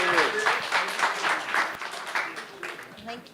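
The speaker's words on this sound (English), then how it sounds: "Can we give Naledi a huge round of applause" Audience applauding for Naledi at a talk on free expression in South Africa, a dense sustained round of clapping from a crowd, fairly loud and steady with a few voices mixed in.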